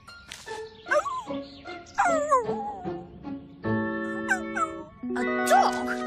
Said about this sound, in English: A dog? Wow! Where did you come from?